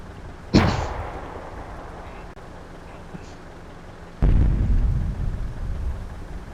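Artillery shells land in the World of Tanks video game, one sharp booming blast early, then a second heavy, rumbling impact later that lingers, with quieter ambient noise between.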